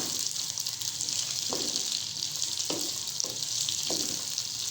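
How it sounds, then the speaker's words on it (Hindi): Half a kilo of potatoes frying in a pan with ginger and garlic for aloo gobi: a steady, close sizzling hiss throughout, broken by a few sharp scrapes of stirring. "अब हम इसमें तकरीबन 2 से 3 मिनट फ्राई करेंगे।"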